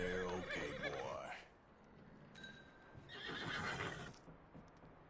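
A horse in the Red Dead Redemption 2 video game whinnies loudly and close for over a second, then neighs again more briefly around the middle, with hoof clops and snorts between calls.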